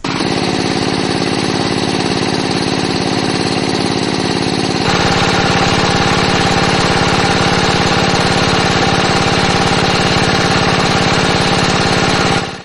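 A diesel engine set up on a farm to water paddy crops runs loudly and steadily nearby, a continuous dense chugging drone with no pauses or talk.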